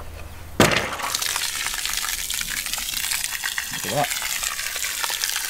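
Rainwater pours from the tap of a hidden garden storage tank fed only by gravity, a steady broadband gush starting abruptly and running continuously, with someone speaking briefly over it.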